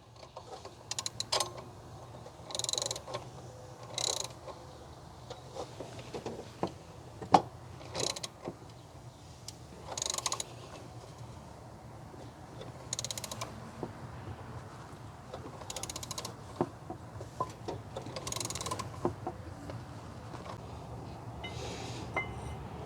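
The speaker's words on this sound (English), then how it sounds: "Then after about 2 minutes of turning, the pulley finally gives." A wrench slowly turning a power steering pump pulley bolt on a Chevy Astro / GMC Safari van, giving irregular metallic clicks, ratcheting knocks and clanks spread over a long stretch of steady work, with no talking.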